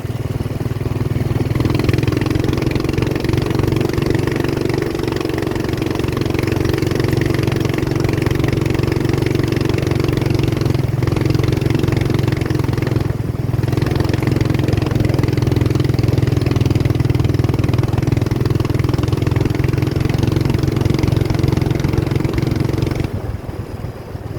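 Hammerhead off-road kart with a 420cc engine rolling slowly through a campsite, its steady low engine drone continuous and fairly loud throughout with slight rises in revs, no talking.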